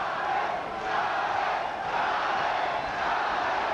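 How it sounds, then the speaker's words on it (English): A boxing arena crowd chants for Julio César Chávez during his fight with Scott Walker, a loud, sustained roar of many voices with a rhythmic rise and fall. "Crowd chanting for Julio."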